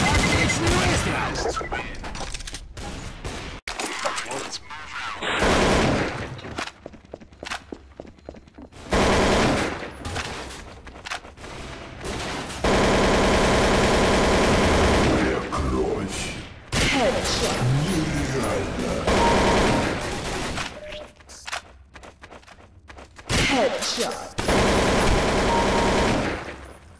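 Gunfire in the video game Counter-Strike: Source, with loud, dense bursts of automatic fire broken by short pauses, filling most of the stretch.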